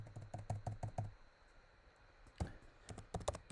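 Quick bursts of keys tapped on a computer keyboard, close and crisp, with a brief pause in the middle before more clustered clicks resume.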